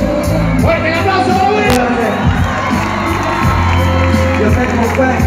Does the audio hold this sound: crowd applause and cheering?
yes